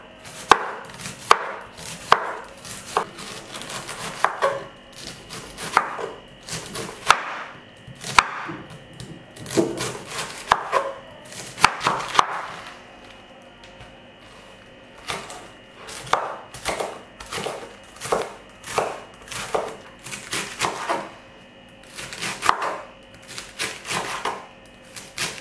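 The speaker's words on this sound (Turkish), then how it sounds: "Ben ince ince bıçakla doğrayacağım." A knife finely chops red cabbage on a cutting board, steady rapid taps in quick bursts with short pauses, close and clear, with no talking.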